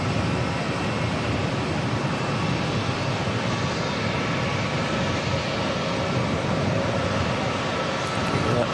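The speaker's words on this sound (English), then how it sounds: "The aircraft that came in from Christchurch, that must have been a good 10-15 minutes ago, finally off to the gate." A passenger aircraft from Christchurch taxiing to the gate at Auckland Airport, its engines giving a steady, loud, broadband roar that holds constant throughout with no voices.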